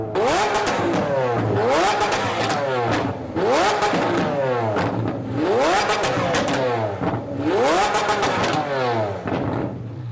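A Liberty Walk Lamborghini Aventador supercar's engine revs hard in repeated loud surges, about four rising blips with brief drops between them, close and with no talk over them.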